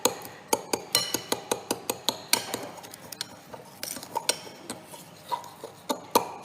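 Butter and brown sugar being creamed by hand in a mixing bowl, a steady series of sharp scraping knocks of the utensil against the bowl, close and fairly quiet, with no talking.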